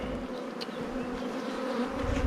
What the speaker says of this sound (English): a large amount of bees here.